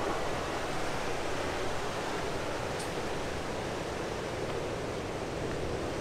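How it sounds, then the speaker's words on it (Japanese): Ocean surf at a surfing point: a steady, loud roar of breaking waves and rushing water, continuous and broadband with no distinct pauses. "今日はちょっと危険な波ですね"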